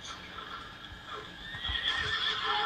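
A horse in a video game gives a clear, moderately loud whinny over a continuous background hum, with soft hoof thuds building toward the end.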